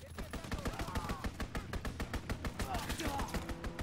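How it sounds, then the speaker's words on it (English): Rapid, dense automatic gunfire from an enemy strafing run in Call of Duty WW2 crackles steadily for a few seconds, close and loud, with faint voices underneath. "Enemy strafing run inbound."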